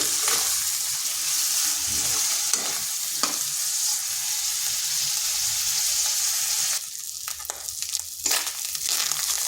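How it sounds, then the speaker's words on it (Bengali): Fish roe frying in a pan with mustard oil, turmeric and salt, a steady close sizzle with stirring scrapes throughout, quieting somewhat near the end. "এরপর ডিমটা একটু ভেজে নিচ্ছি"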